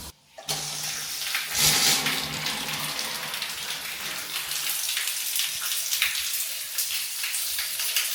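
Water running from an open tap in a newly turned-over house, left on to test whether the drain flows properly; a steady hiss and splash fills the clip, with a louder gush near the start.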